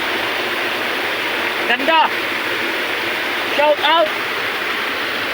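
Waterfall roaring loud and constant from within the falls, with a voice calling out briefly twice over the rushing water.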